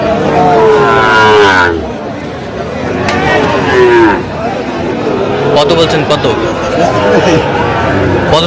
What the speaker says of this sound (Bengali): চলছে গরুগুলো